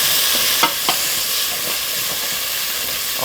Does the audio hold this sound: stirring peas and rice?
yes